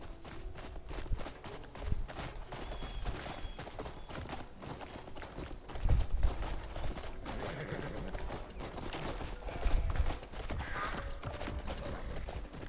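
A horse in the video game Crimson Desert trots with steady, rhythmic clip-clop hoofbeats, close and moderately loud, with occasional whinnying mixed in.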